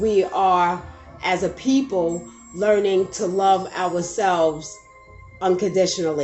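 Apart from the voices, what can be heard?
No everyday noises stand out.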